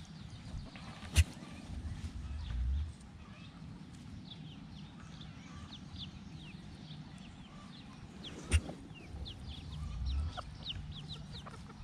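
A large backyard flock of chickens clucks and chatters continuously at a moderate distance, with scattered sharp calls and a couple of loud knocks or thumps nearby, and no talk over it.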